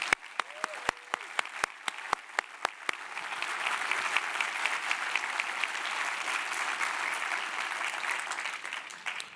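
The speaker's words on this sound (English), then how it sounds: "Let's give them a round of applause, too." A conference audience at a Ruby programming event breaks into applause; a few sharp separate claps come first, then dense, steady clapping builds and holds at moderate level.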